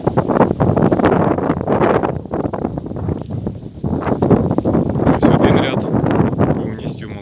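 Gusty wind buffets the microphone in a steady broadband roar over an orchard of young tree rows, with faint speech mixed in and a brief lull midway.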